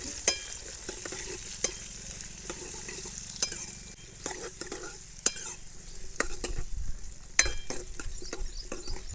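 Raw mango, cumin and asafoetida are stirred in a hot pan for a tangy Gujarati curry: soft sizzling beneath repeated sharp scrapes and taps of a spoon against the metal, close by.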